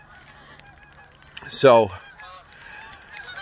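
A single close, loud goose honk rises abruptly from a quiet outdoor background, and a brief spoken word comes just before it.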